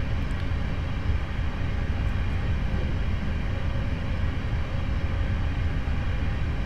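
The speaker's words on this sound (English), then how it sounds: "I'm now going to allow the train to continue to coast." Steady low rumble of a train coasting at night from Glasgow Central toward Glasgow Airport in Train Simulator 2015: continuous wheel and rail drone with no sharp events, moderately loud and even throughout.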